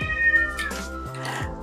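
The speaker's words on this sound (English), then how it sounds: "Oh, she's such a noisy cat." Lola, a house cat, lets out a long, loud, wavering meow close by, stretching over a second or more in a kitchen.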